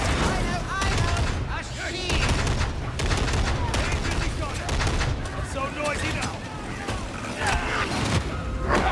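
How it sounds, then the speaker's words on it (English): Grenades going off in Warhammer 40K Darktide, a dense chaotic barrage of rapid blasts and gunfire-like bursts layered with combat clatter and voices throughout. "Oh my god, grenades."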